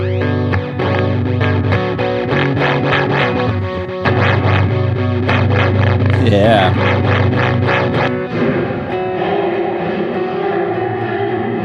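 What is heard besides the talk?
guitar effects pedal modulation effect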